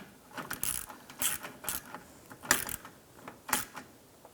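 A ratchet snugging a nut down onto a stud while an AC condenser is replaced on a 2005–2007 Ford Five Hundred, heard as several short bursts of sharp clicking, close up with no talking.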